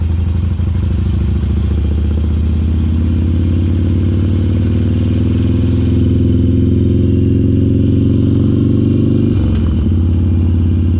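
A motorcycle engine drones steadily at close range, its pitch slowly rising as the bike rides along, then dipping sharply near the end before settling again.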